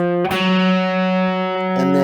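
Distorted electric guitar plays a riff, sustained chords ringing with heavy effects and a sharp new attack near the end, played alone.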